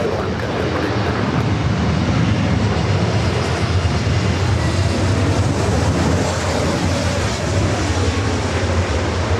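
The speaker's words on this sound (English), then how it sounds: "Delta A321 Neo touching down at 24 left. Sorry, 24 right." A Delta Airbus A321neo lands on runway 24 right at Los Angeles LAX, a loud, steady, broadband jet roar filling the whole stretch without pause.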